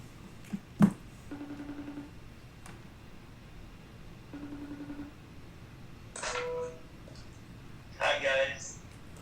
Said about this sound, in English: Alright, ringing you now.